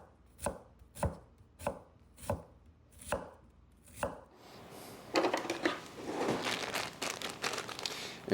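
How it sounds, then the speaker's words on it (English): Knife dicing half of a large onion on a cutting board set on a towel: six distinct, evenly spaced chops, then a dense, rapid flurry of fast chopping and scraping that grows louder toward the end. "I need to dice up half of a large onion"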